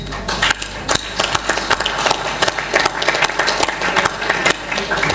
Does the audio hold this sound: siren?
no